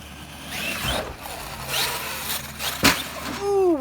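A Traxxas XMAXX 8S radio-controlled truck on a mountain bike park trail, its electric motor whining up and down in rising sweeps, with a hard thud of impact partway through before the motor revs high again.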